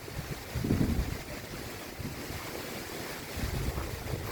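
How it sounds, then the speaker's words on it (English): Strong wind buffets the microphone in gusty rumbling surges ahead of a storm, a rough continuous roar with no one talking. "we're getting a lot of wind."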